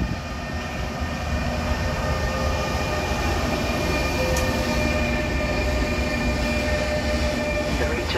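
A train pulls out from a platform at Salerno railway station, a steady loud rolling rumble with high squealing tones from the wheels and brakes, continuing evenly throughout.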